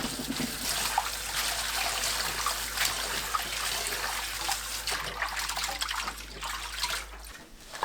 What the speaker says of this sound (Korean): 시간이 지나면 물에 담가두었던 생강을 물에 헹궈내세요